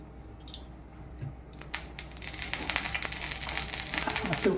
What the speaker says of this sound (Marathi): आपल्याला थोडीशी तुपात भाजून घ्यायची आहे